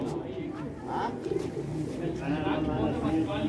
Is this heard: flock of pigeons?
yes